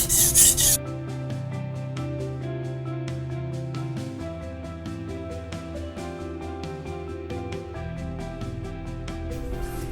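A steel knife is drawn over a Kramer by Zwilling 1k whetstone in repeated rasping strokes, a steady rhythmic scraping heard up close with no talking.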